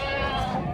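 A goat gives one short, close, strained bleat at a busy livestock market.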